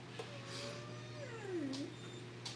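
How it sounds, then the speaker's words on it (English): Puppies let out a single faint, thin howling whine midway through, rising and then sliding down, over a low steady hum in an otherwise quiet room. "Y'all are gonna hear the puppies."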